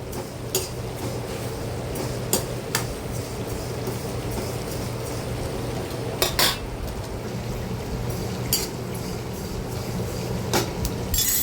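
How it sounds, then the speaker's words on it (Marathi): Fennel seeds dry roasting in a pan while masala spices are toasted: a continuous low rustle and hum, with sharp metallic clinks and scrapes of a spoon against the pan scattered throughout, no voices. "बडीशेप घेतली आहे ती भाजून घेते"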